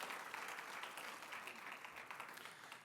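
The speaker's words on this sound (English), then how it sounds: "Big round of applause for our board members." Audience applause for board members at a conference, a steady wash of many hands clapping that holds fairly level throughout, heard from a distance and somewhat faint.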